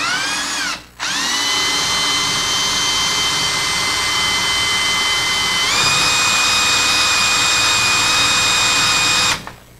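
A power drill whines steadily while boring into metal, its high pitch briefly dipping and recovering early on, then rising slightly before stopping abruptly.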